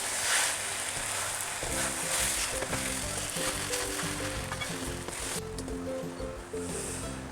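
Shrimp pad thai with scrambled egg sizzles loudly in a hot pan as it is tossed and mixed, a steady frying hiss joined by repeated scraping, clattering stir strokes throughout.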